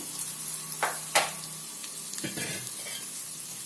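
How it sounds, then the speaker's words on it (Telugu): Sliced onion frying in a pan for pesarattu upma, a soft, steady sizzle with occasional stirring scrapes and clinks, close and fairly quiet, no voices. "ఉల్లిపాయ తీసుకొని సన్నగా తరిగాను అది వేసుకుందాము అది వేగాలి కొంచెం"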